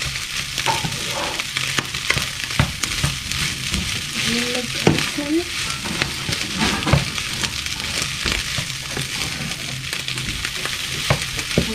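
Fried rice (sinangag) is stirred in a hot pan, giving a loud, continuous sizzle with scraping stir sounds throughout, with faint voices briefly in the background.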